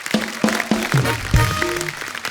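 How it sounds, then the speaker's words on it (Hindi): A studio audience at a Kapil comedy show applauds for Gaurav Gera, a noisy burst of clapping that runs under voices talking and calling out throughout. "एक बार गौरव गेरा के लिए जोरदार तालियां हो"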